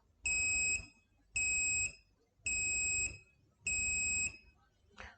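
An Arduino active buzzer driven through a potentiometer sounds four loud, steady electronic beeps, each about half a second long, repeating at an even pace with short pauses between them.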